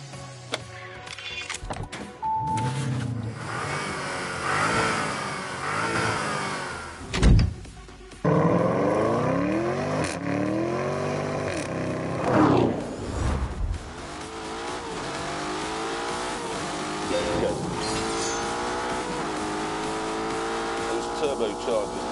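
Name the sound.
Lamborghini Urus turbo engine accelerating in The Grand Tour video game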